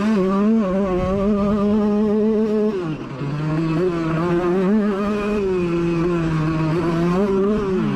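Two-stroke Honda CR125 motocross bikes race on a dirt track, a loud, steady, buzzing engine whine from close by that dips briefly in pitch around a gear change and then climbs again as they charge up a hill.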